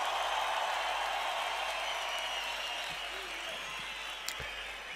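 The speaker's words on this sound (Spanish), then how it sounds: "Fuerte aplauso para los dos." Distant crowd applause after a freestyle rap battle between Aczino and Akapellah, a faint, even roar of clapping that thins slightly toward the end.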